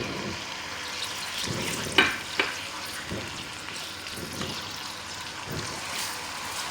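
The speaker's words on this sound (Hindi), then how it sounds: "ऑयल को मैंने चूल्हे पे रख दिया और सबसे पहले अब हम इसमें ऐड कर देंगे प्याज चाप की हुई" Chopped onions frying in oil on the stove, a steady close sizzle with a couple of sharp clinks and stirring scrapes, no talking.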